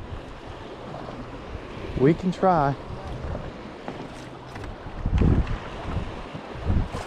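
Ocean waves slosh and slap against a small fishing boat out on open water, a steady washing rush with wind noise buffeting the microphone, while someone speaks briefly in the middle.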